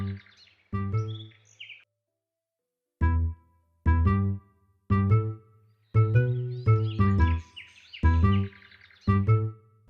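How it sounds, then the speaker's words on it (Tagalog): Birds call at a resort in San Juan, Siquijor, with short, clear, tonal chirps repeated in quick bursts, close and fairly loud against an otherwise silent background. "Umaga pa lang, isa-isa nang nagche-check-in sa hostel ang mga ibong ito."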